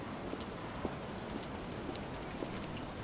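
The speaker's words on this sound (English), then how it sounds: "It's a rainy day." Steady rain falls in the video game Sherlock Holmes The Awakened, a soft, even wash of patter with occasional slightly louder drops, continuous and alone throughout.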